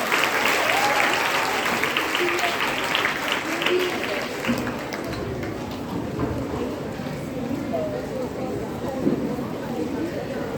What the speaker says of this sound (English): it surely deserves another round of applause